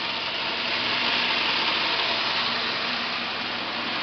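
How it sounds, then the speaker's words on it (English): A diamond floor grinder running a rough grind on concrete with 6-grit diamonds, a steady dense whirring roar that stays even and close for the whole stretch, with no talking. "We're doing a rough diamond grind with 6 grit diamonds."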